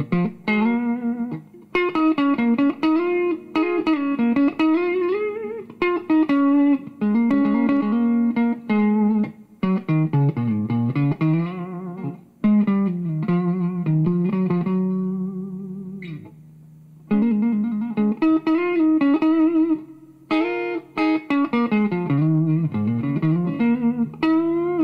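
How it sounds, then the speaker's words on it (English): Electric guitar played through a Mr. Springgy spring reverb pedal set low at the 9 o'clock position, a run of loud picked notes and chords with only a short, subtle slapback-like tail after each phrase. "you can hear just a little bit of tail at the end, sounds a little bit like a slapback reverb"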